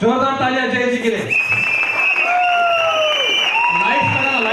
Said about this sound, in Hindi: जोरदार तालियां जय जी के लिए